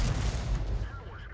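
A 105 leFH18B2 artillery gun fires a high-explosive shell in a video game, a single heavy boom at the start with a rumbling tail that fades over a second.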